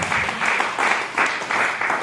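A church service audience claps in a short burst of applause that swells in uneven pulses for about two seconds, moderately loud and without talking.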